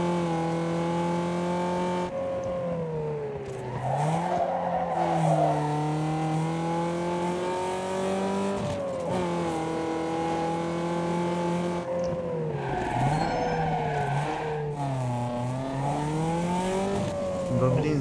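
Race cars roar through a Need for Speed Underground 2 race, with steady engine drone, shifting revs rising and falling between gear changes, and occasional tire squeal, continuous and close throughout.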